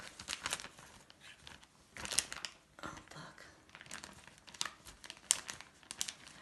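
Close, quiet plastic crinkling in repeated bursts as a bag is handled and pulled over a lemon tree air layer, with soft speech in between.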